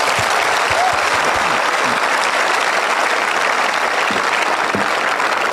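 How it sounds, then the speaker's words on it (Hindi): A crowd at a Rajasthani-language rally claps in a loud, continuous burst that stays dense and even from start to finish, close and full with no voices over it. "आप सब आ खातर एक बार तालियां बजाई दो।"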